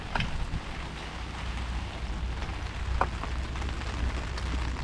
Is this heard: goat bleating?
no